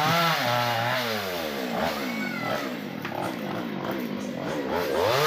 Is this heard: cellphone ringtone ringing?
no